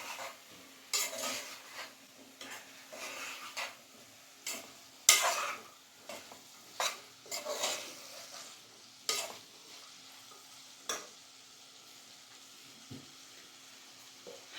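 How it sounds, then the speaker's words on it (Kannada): Snake gourd curry stirred with garam masala in a pot, sharp spoon clacks and scrapes against the metal coming in an irregular rhythm, fairly quiet with pauses between, no talking. "ಈಗ ಮಿಕ್ಸ್ ಮಾಡ್ಕೊಂಬಿಡೋಣ"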